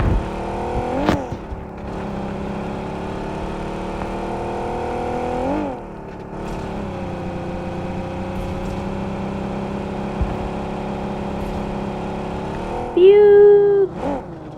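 A car engine droning and revving in the video game PUBG Mobile, a steady harmonic whine with a few sharp shifts and bumps, ending in a brief high squeal.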